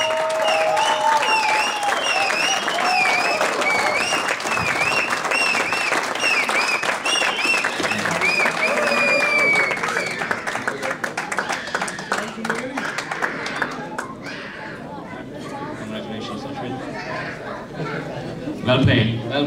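Applause for a batsman at a 2011 WMCB cricket awards function forms a sustained crowd clapping mixed with chatter and voices, easing off partway through.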